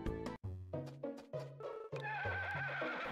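A horse in Harvest Moon: Sunshine Islands gives a loud, clear whinny with a series of rising, stepped neighing notes and a trailing tonal fall, heard alone without talking.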